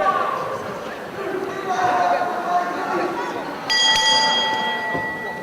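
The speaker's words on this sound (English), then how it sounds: "The bell sounds and we're ready for things to get underway." A wrestling ring bell rings out at the start of a match, a bright metallic clang over a steady murmur of crowd noise and commentary.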